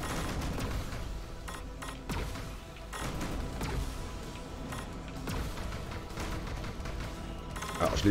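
Turrets in the remade rail shooter Panzer Dragoon are gunned down in a dense, continuous barrage of game gunfire and booms, loud and steady throughout with no talking.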